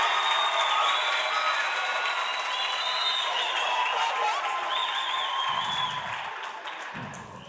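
An audience gives a round of applause for Ntate Jerry Mofokeng at a youth transformation event. Sustained, moderately loud clapping tapers off slightly toward the end, with a couple of low thuds.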